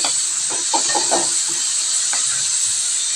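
Ground tomato paste hits a pan of spiced fish curry frying in a home kitchen, giving a steady, fairly loud hiss and sizzle with a few soft stirring knocks near the start.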